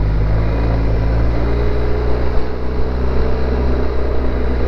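A Jeep's engine runs at a steady, loud drone while driving, with a constant low rumble and no voices.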